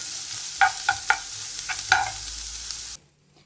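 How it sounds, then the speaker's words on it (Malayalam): Chopped shallots and green chillies sizzle steadily in a hot pan, with a few scraping stirs clattering through, then the sound cuts off abruptly near the end. "കൊച്ചുള്ളിയും പച്ചമുളകും കൂടെ അരിഞ്ഞ് വെച്ചെന്ന് അതെടുത്ത് നമുക്കൊന്ന് വഴറ്റിയെടുക്കാം"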